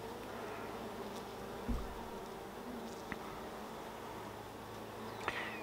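Honey bees buzz steadily around hive frames, a dense continuous drone close by, with a couple of faint knocks and clicks from handling the frames.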